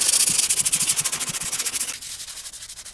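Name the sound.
sanding rust off a steel hewing axe with sandpaper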